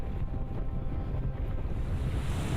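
Sea waves surge and wash steadily around a sailing yacht heading toward the Shantar Islands, with roughly one-metre waves and a constant low roar of wind buffeting the microphone, loud and continuous throughout.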